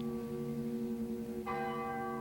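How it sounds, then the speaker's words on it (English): A church bell tolls at a ranch before a rodeo, its long humming ring decaying and then a fresh strike sounding clearly, alone and fairly distant. "they tolled the bell for Joe Pittman"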